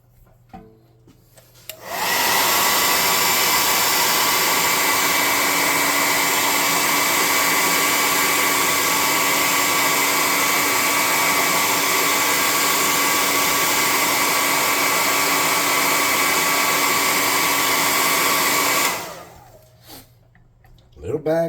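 Hair dryer blowing on a freshly painted Zombicide miniature, a loud steady roar that holds for about seventeen seconds before cutting off, with quieter room sound and clicks at either end.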